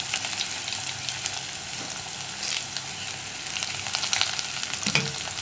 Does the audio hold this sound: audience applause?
no